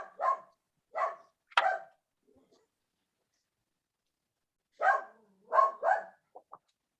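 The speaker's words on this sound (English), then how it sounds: "Peter Gorse, is that your dog?" A dog barks in sharp single yaps, three in quick succession, then a pause before another cluster of barks, moderately loud and somewhat distant.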